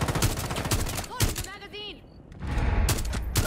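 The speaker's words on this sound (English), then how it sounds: "Oh, I love that gun sound, dude." Video game gunfire rattles out in loud, rapid broadband bursts, with a short lull in the middle before the shooting picks back up, and some faint background voice.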